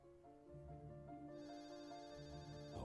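In the video game MeMento Mori, a telephone keeps ringing, its bright electronic tones continuing steadily above a low musical drone with no voices.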